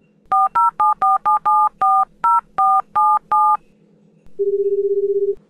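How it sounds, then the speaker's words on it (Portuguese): Telephone number dialed by keypad, a rapid run of about ten loud, clean DTMF beeps in an uneven rhythm, then a short pause and a steady ringing or dial tone. "vamos ligar agora para o Renato."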